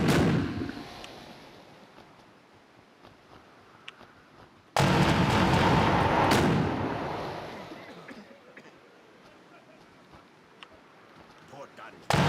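Port-side cannons of a sailing ship fire a broadside in the game New Horizons, a sudden loud burst of booming blasts that rolls on and slowly fades, with a voice talking faintly throughout.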